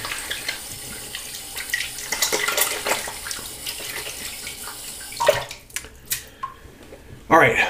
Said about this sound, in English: let me rinse off my hand